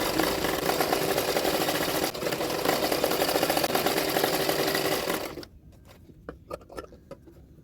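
A sewing machine runs steadily and loud at close range, stitching folded blouse lining fabric, its fast even whir continuing for several seconds before stopping, followed by a few soft clicks and handling sounds.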